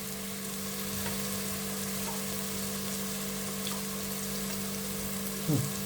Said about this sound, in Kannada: ಇವಾಗ ಮೊಸರು ಹಾಕ್ತೀನಿ.